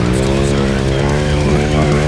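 Honda Grom motorcycle engine running cold at steady high revs, a loud continuous buzzing drone that holds level throughout.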